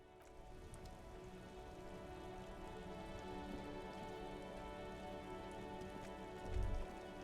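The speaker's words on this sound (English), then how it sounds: "All around you, rain falls on the great city of Revachol." Steady rain falls over the great city of Revachol in the Disco Elysium video game, a soft continuous hiss of drops with a faint low thump near the end and no talking.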